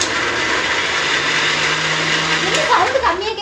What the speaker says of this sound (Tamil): இது என்ன மிக்ஸி?